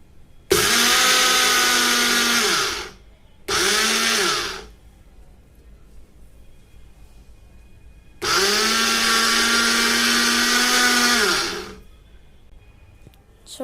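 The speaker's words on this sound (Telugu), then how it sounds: "ఇప్పుడు నువ్వులు గ్రైండ్ చేసుకుందాం" A mixer grinder whirs as it grinds sesame seeds, three loud motor bursts of a few seconds each with short quiet gaps between, near and with no talking.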